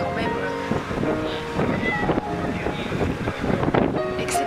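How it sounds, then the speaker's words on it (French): Cold wind blowing across a mountainside high above the sea, a steady gusty rush with buffeting on the microphone, heard under a person talking throughout. "j'ai un vent froid qui vient à ma droite"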